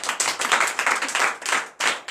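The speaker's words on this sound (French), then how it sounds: "Donnez l'acclamation à Jésus." Congregation clapping and cheering for Jesus during a church service, loud dense applause close by that breaks off briefly near the end and then starts again.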